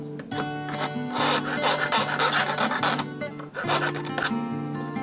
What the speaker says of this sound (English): file off, round off the edges